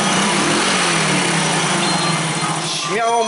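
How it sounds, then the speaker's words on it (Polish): A Zipp Salmo scooter engine, under repair for suspected valve trouble, runs steadily at close range with a loud, continuous buzzing drone throughout. "silnik uruchamia się nawet na wyłączonym staniu"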